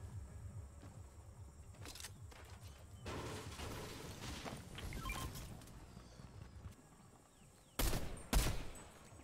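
Gunfire in the Fortnite video game comes as brief scattered bursts and a couple of sharp, loud shots near the end, set against quieter background game noise.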